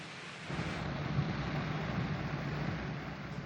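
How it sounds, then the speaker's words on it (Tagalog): Steady rain falls on damaged city roads in Quezon City, a broad, even hiss that holds throughout with no voices. "Emil, sa mga sandali ito ay medyo inuulan pa rin tayo, no?"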